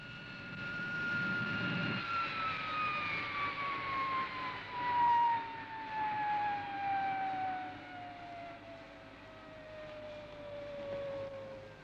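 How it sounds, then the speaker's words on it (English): The Supercar aircraft comes in to land with a steady whistling whine that slowly falls in pitch over a low, continuous rumble, with no other sounds over it. "I'm bringing Supercar into land now."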